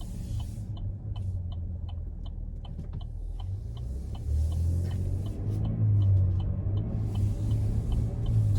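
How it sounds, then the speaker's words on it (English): A 2021 Chevrolet Traverse turn signal ticks loudly and evenly in a steady rhythm over low engine and road rumble inside the cabin, the rumble swelling partway through. "Blinker's a little bit loud. I think all American cars have a pretty loud blinker"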